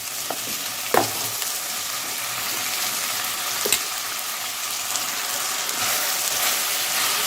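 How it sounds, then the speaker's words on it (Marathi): Washed rice fries in a pan for veg pulao, a steady close hiss of sizzling with a couple of sharp stirring knocks, no talking. "तांदूळ पण आपण एक ते दीड मिनिट याच्यामध्ये फ्राय करून घेऊ"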